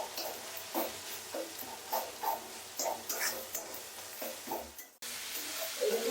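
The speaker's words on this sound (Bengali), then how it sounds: "এবারে এটা একটু অল্প ভেজে নিই।" Spices and chili powder frying in a pan for homestyle paneer masala with no onion or garlic, a steady close sizzle broken by repeated stirring scrapes, with a brief pause before the frying resumes.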